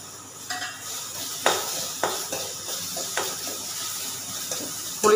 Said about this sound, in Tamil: இப்போ அதே கடாயை வச்சு ஒரு சின்ன தக்காளிங்க போட்டு அதையும் நல்லா வணக்கி எடுத்துக்கலாம்